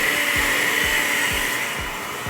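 Egg yolks and batter being whipped by an electric mixer: a continuous high whine with a gentle repeating thud roughly twice a second, the motor easing slightly toward the end.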